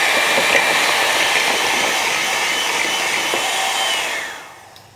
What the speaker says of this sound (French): Je vais déjà mélanger le jaune avec la moutarde.